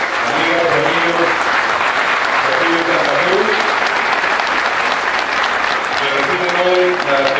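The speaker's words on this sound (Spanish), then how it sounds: "un aplauso para ustedes" Residents of a housing complex applaud at a municipal ceremony handing over new police patrol cars, loud sustained crowd clapping with voices murmuring underneath.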